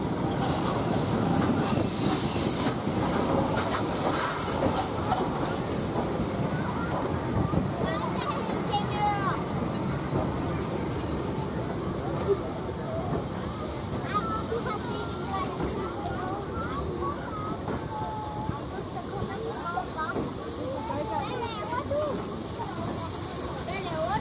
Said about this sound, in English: Finally, we catch up with our steam train again.